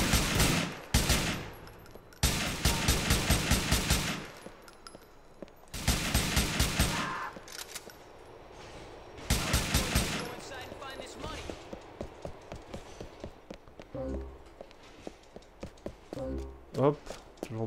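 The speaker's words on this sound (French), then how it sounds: "Je tire tout seul" Bursts of automatic gunfire during a bank heist at Bank of Liberty in GTA IV, loud rapid volleys separated by pauses, with someone speaking between them and sharper single shots near the end.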